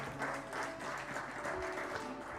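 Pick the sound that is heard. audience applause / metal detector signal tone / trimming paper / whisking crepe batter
audience applause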